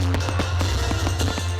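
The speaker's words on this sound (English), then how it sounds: "And the biggest and brightest fireworks show yet." Fireworks at a holiday night celebration in Coeur d'Alene crackle and pop in a quick scatter of sharp bursts over a steady low rumble of crowd and ambience.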